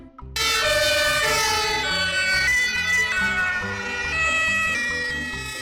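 Firefighter ATV, a small all-terrain fire vehicle, sounding its siren: a loud, close electronic wail that starts abruptly and holds steady with shifting tones for several seconds.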